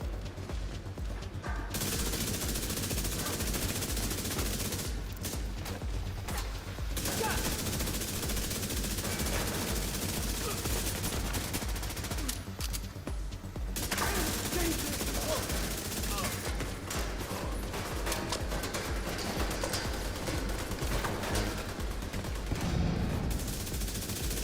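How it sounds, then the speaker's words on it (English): SMG gunfire in the video game The Division 2, nearly continuous rapid automatic bursts with brief pauses, dense and steady throughout, mixed with in-game sounds and someone talking over it. "See, I'm using an SMG, but notice I shoot from far away."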